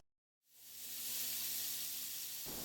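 Vegetable oil sizzles in a hot frying pan over medium heat, a steady close hiss that starts abruptly after a brief silence and holds evenly throughout.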